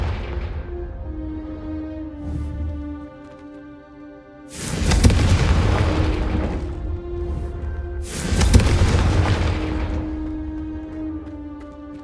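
Confringo blasting spells explode in Hogwarts Legacy, two heavy booming blasts a few seconds apart, each with a rumbling tail, over a steady game music bed.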